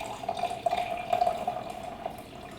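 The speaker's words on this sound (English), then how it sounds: "I'm going to go ahead and add a little bit of salt water" Salt water poured into a jar of cabbage for homemade fermented vegetables, a steady close trickle and splash of liquid running for a few seconds without talk.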